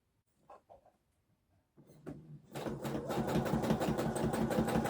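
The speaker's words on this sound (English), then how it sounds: "I'm going to keep sewing and I'll show you the effect at the end." A domestic sewing machine doing free motion quilting starts after a few soft handling clicks, then runs in a fast, steady rhythmic whir of stitches for the last few seconds, close and alone.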